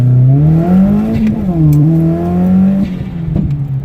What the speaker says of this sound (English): so here I'll do a first gear pull